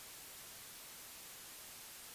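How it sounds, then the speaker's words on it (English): A white noise test signal played through an XAir 18 mixer, a steady, even, full-band hiss that runs unchanged from start to finish with nothing else heard. "Here's white noise here."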